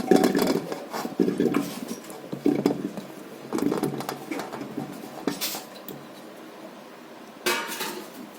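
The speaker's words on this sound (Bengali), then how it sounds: "আলুটা আমি ধুয়ে নিয়ে এসেছি। তো আমি প্রেসারের মধ্যে দিয়ে দিচ্ছি" Washed potatoes tumble into a metal pressure cooker, producing clattering, knocking bursts of hard pieces hitting metal in several close, loud waves.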